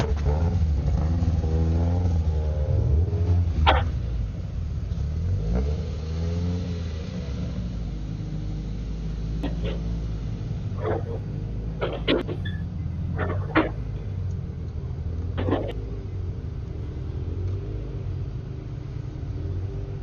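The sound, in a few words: Mazda Miata race car driving on track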